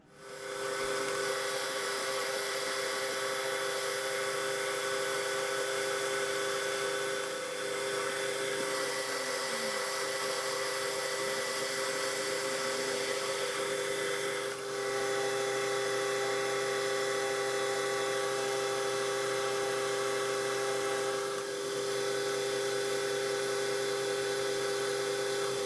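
Metal lathe spinning a homemade annular cutter arbor held in the headstock by a drawbar, a steady high-pitched machine whine and hum running continuously at close range with no speech.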